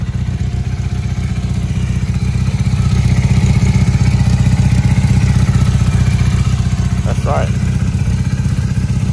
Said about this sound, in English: Look at this motorcycle.